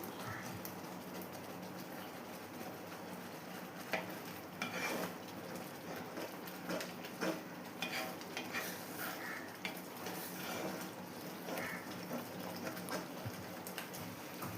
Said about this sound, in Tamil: இப்போ கொஞ்சம் நெய் சேர்க்குறேன்